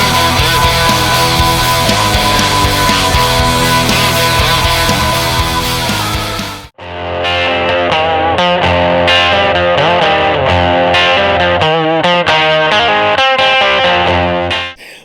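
Distorted electric guitar run through Logic Pro X stock amp plugins plays loud sustained chords, breaks off briefly, then resumes with choppy rhythmic riffing and effects, with no voices.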